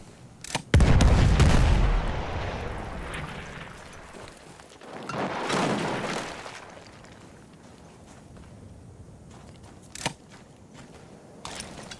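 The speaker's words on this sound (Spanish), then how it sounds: "Es una explosión común y corriente, se avienta granadas, se coloca explosivos" Battlefield 1 grenade and explosive blasts on the Sinai desert map: a loud, deep boom opens, then a second rumbling blast mid-way and sharper distant cracks later, with quieter stretches of battlefield ambience between.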